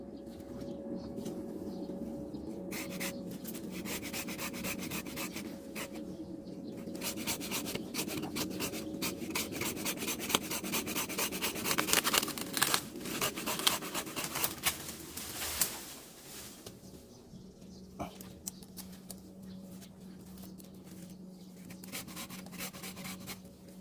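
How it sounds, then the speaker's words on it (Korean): Thick branches of a wild peach tree being cut during pruning, a steady rasping saw stroke running continuously for about fifteen seconds, fairly close and moderately loud, then easing into quieter rustling. "자 이런 식으로 해서 큰 가지를 잘라주고"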